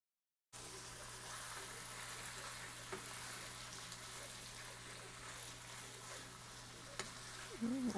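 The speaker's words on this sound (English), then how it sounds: "First, we will fry the prawn in butter and garlic." Prawns fry in butter and garlic in a pan, a steady, close crackling sizzle that holds evenly throughout, with a brief stir or scrape near the end.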